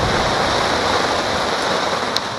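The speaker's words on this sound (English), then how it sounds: "We got a surprise shower." A heavy, sudden rain shower pours down steadily outdoors as a dense, continuous hiss that stays loud and even throughout, with no voices heard.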